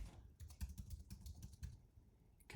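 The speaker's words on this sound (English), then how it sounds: "So next it wants us to type in this command," Someone types a command into Cisco Packet Tracer on a computer keyboard: a quiet, close run of separate key taps at an uneven pace, with no voice.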